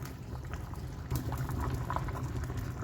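Steady bubbling of a pot of horse gram on the boil, a low continuous churning with soft pops, close by and unbroken throughout.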